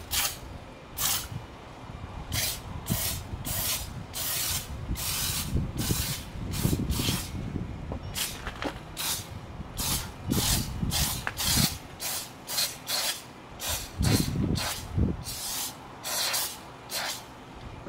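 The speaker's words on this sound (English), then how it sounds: "I'm just going to start coating the chain from where I can see it." Lubricant sprayed onto a motorcycle chain in a long run of short hissing bursts, close and fairly loud, with brief gaps between sprays and low rustling handling noise underneath.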